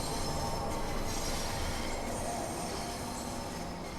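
A 1972 MK2 tube stock train runs on the London Underground Bakerloo Line toward Charing Cross in Train Sim World 5, a loud continuous rumble with high wheel squeal, steady and close throughout.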